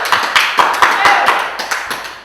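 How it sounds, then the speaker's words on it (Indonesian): A small studio group on a theatre news show claps in a run of distinct, sharp claps at an uneven pace, fading slightly toward the end, with voices murmuring underneath. "Tepuk tangan dong"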